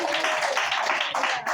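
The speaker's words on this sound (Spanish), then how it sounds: "El que lo cree, déle ese aplauso al Señor." Church congregation at an evangelical revival service applauding together, a dense, loud, continuous wash of clapping with voices mixed in.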